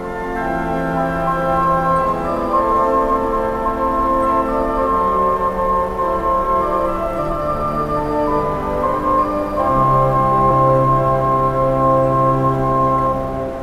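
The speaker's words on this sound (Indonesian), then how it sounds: "Ini adalah instrumen musikal otomatis yang akan diputar tepat setiap jam" An automatic musical instrument at Kaohsiung Station plays its hourly welcome melody, a steady sequence of bright sustained tones in a reverberant hall, fairly loud and without talk.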